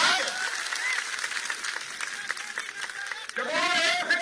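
Applause from a crowd at an outdoor political rally in Moga, Punjab, a steady dense clatter of many hands that swells again near the end, with a voice calling out over it.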